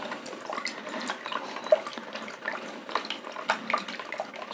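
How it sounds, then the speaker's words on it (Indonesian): Water sprays steadily to rinse silk worms clinging to a sieve into a jar below, a close, continuous hiss and splatter with small uneven surges and no talk. "Nah kita semprot lagi supaya cacing-cacing yang nempel di serokan ini jatuh ke toples."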